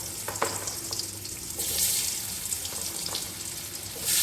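Potato pieces frying in hot oil for a masoor dal and potol dish, a steady broadband sizzle and crackle with a few sharp pops, swelling louder toward the end, heard alone without talk.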